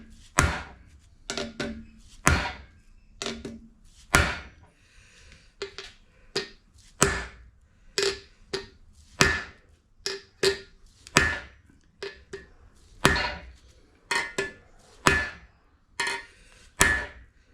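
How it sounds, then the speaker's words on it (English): A ball peen hammer strikes engine core plugs on an MG 18V engine over and over, sharp ringing blows at an uneven steady pace, close up, with no voices. "I use a ball peen hammer and then I put it in the middle and I give it a good belt"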